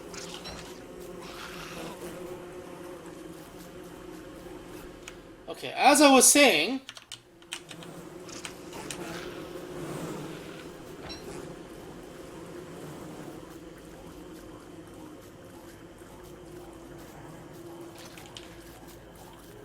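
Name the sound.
killer bees buzzing in the video game Don't Starve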